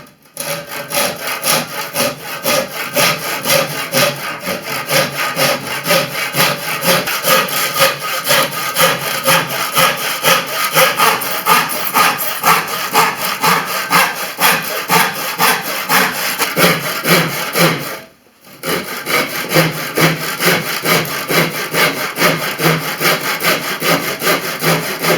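A hand saw cuts through a lacquered melamine panel in fast, even back-and-forth strokes, loud and close, with one brief pause before the rhythmic rasping resumes.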